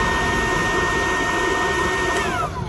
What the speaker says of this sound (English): he's got an induction heater here